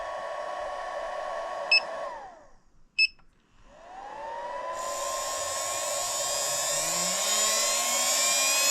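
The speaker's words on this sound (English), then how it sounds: "Here we have an Apex 13 turn motor." A small Apex 13-turn brushed RC motor on a dyno whines steadily, cuts out briefly with a couple of clicks, then spins back up to a high, loud, sustained whir.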